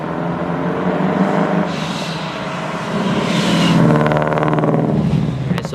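Toyota FRS with a newly fitted loud aftermarket exhaust, revving hard close by, the engine note swelling and falling through several rising pulls with no talking.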